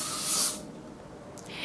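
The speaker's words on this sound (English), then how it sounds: "So the first thing I have is Gillette body spray." A can of Gillette men's body spray, 150 ml, sprays in one loud, steady hissing burst for about half a second, then stops into quiet, with a faint brief hiss near the end.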